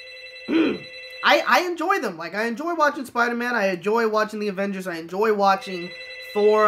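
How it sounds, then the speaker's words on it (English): Telephone ringing in the background, a steady electronic tone sounding behind someone talking continuously in the foreground. "I apologize for the phone in the background"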